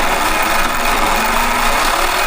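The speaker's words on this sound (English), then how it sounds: "You hear that chain noise? That cacophony." An old electric scooter's chain gives a loud, continuous grinding rattle running at speed, harsh and broadband, steady throughout with no pauses.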